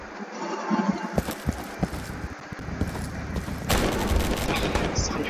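Rapid gunfire in the Roblox shooter game Deadline, bursts of sharp shots and quick automatic fire, with a louder sustained burst in the second half and a voice talking faintly between shots.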